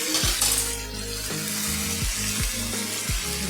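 Jackfruit curry in a pan sizzling loudly as water is poured in, a steady hiss with bubbling and a few deep gurgling surges throughout, no voices.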